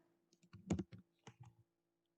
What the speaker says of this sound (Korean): 제가 탐색기를 연 상태에서 Alt 프린트 스크린을 눌렀습니다